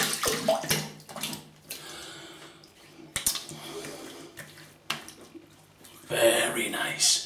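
Face being rinsed with water after a shave: irregular splashing and swishing bursts, close up, with a louder wash near the end and no talk.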